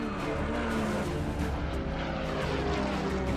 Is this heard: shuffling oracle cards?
no